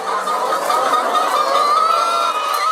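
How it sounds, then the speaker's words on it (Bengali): Hundreds of chickens on a poultry farm cluck together in a dense, continuous chorus that holds steady throughout, with no talking over it. "খামার ভর্তি শত শত মুরগি,"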